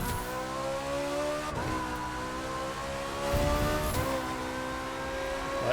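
A Ferrari racing in the video game The Crew 2, its engine a steady, loud, high droning tone that dips and climbs again with gear changes, heard alone.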